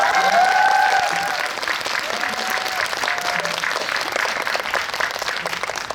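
A movie talk event audience in a cinema hall breaks into loud, sustained applause from many people, a thick, even roar of clapping throughout, with a few faint voices and whistles rising over it.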